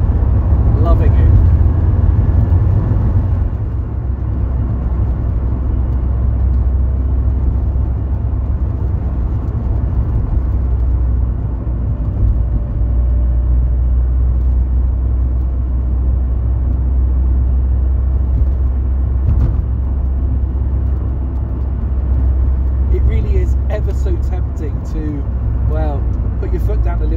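An MGF Trophy 160 roadster drives along a Dartmoor road, its engine a steady, loud low rumble with road noise throughout, someone speaking over it now and then.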